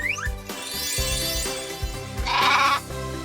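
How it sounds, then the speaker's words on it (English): Sheep bleating in a farm animal puzzle game, a few wavering bleats over light, bouncy background music, loud and close with no talk. "Look, guys, it's a sheep."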